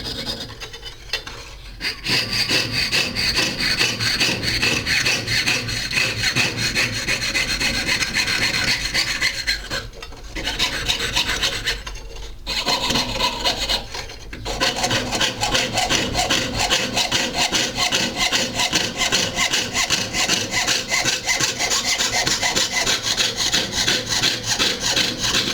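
A jeweler's saw cuts through metal with a steady, close rasping rhythm of quick back-and-forth strokes, pausing briefly a few times before resuming, with no talking.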